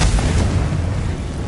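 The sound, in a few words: Confringo spell explosion in the video game Hogwarts Legacy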